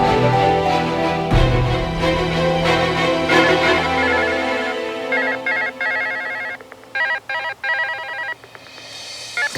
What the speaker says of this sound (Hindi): थुराम बंटी, फोन क्यों नहीं उठा रहे हो?